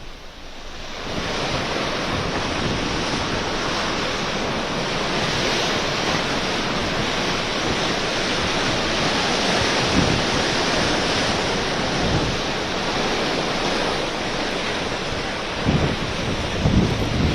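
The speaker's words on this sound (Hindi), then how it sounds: "गेटवे ऑफ इंडिया पर समुद्र में ऊंची ऊंची लहरें उठ रही हैं।" High sea waves driven by Cyclone Biparjoy surge at the Gateway of India in Mumbai, a loud, continuous roar of surf with heavy wind buffeting the microphone and occasional deeper crashes.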